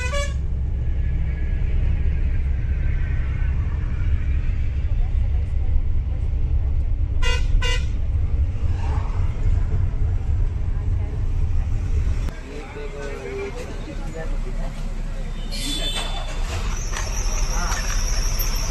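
Inside a bus at six in the morning on a journey from Pune to Belgaum: a steady, loud engine rumble throughout, with horn toots from outside, a drop in engine noise partway through and more honking near the end.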